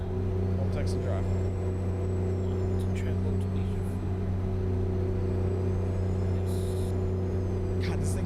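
Truck engine in a trucking video game drones with a steady low rumble and hum throughout, with a few faint clicks and brief higher sounds over it.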